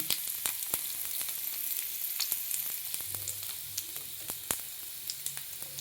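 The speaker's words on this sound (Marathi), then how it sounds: "आता आपण जिरे टाकूया. जिरे असे चांगले खरपूस तळून द्यायचे." Cumin seeds frying in about two spoons of hot oil for pithla bhakri, a steady close sizzle with scattered sharp pops and crackles throughout, no talking.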